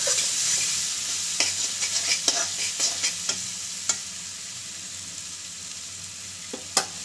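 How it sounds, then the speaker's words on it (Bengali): Spice masala with turmeric is stir-fried in a pan for a fish bone chorchori, with a soft continuous sizzle and a run of sharp, close spoon scrapes that thin out toward the end, with no voices. "মশলাটাকে খুব ভালোভাবে কষিয়ে নেবেন।"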